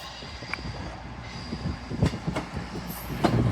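LNER Azuma train pulling out of York station, quiet rumble with faint wheel squeals and clicks from the track, heard at a moderate distance over about three seconds with no speech.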